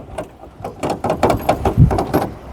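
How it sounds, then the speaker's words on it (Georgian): A door is opened nearby, giving a short series of mechanical clicks, rattles and sliding scrapes that keep going through the whole moment, fairly loud and close. "კარი გამიღე."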